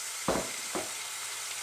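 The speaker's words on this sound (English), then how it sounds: "And now we can add the meat to this." Lamb chop meat dropping into a pan of browned fried onions, two short bursts of hot sizzle with a faint steady hiss between them.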